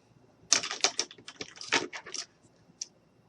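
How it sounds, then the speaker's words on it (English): Scissors snip through paper while cutting out a snowman ornament piece, a quick cluster of close, crisp cuts followed by a short pause and one last snip. "I am going to just go ahead and cut this out"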